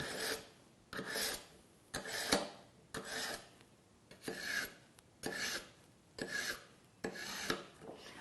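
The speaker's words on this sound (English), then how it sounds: "now both slots are ready for me to sharpen the knife. I'm going to pull it 5 to 10 times on each side." A kitchen knife is drawn through the slots of a KitchenIQ adjustable manual sharpener, giving eight evenly spaced raspy scraping strokes, close and fairly quiet, each lasting about half a second.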